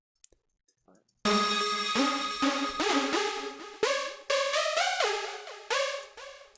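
A bright, buzzy synthesizer lead plays a quick melodic phrase of punchy notes with some pitch slides, after a few faint clicks.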